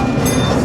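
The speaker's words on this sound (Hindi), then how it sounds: "ये ट्रेन जा रही है" A small park train pulls away at Kinsmen Park in Saskatoon, a brief, steady rumble of rail cars rolling close by.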